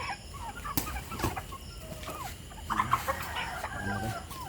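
Native chicken pullets cluck in a steady scatter of short, near calls over a low background of farmyard noise, with a few louder bursts partway through.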